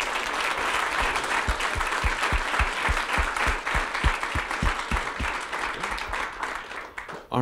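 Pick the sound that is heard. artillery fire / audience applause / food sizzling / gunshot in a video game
audience applause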